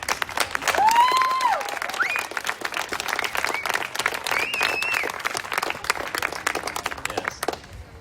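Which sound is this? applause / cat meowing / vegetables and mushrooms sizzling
applause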